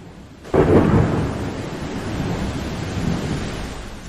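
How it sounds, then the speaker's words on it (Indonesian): Heavy rain pouring steadily with a low rumble of thunder that swells after a quiet start, broad and close, continuing without voices. "Kok nggak berhenti-berhenti ya hujannya ya?"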